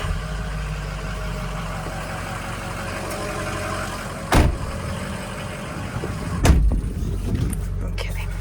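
A 2005 Ford F250 Lariat 4x4 with a Powerstroke diesel rumbles steadily at a low idle throughout, with two louder thumps like a door or hood closing partway through.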